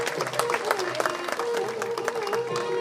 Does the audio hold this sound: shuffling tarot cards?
no